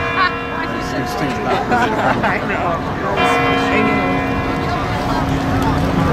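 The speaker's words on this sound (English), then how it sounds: "the chimes just started visually from the Kremlin" The Kremlin clock chimes ring out over Moscow, heard from inside the GUM department store: sustained, tonal bell strikes that linger and overlap at a distance beneath the murmur and talk of a crowd.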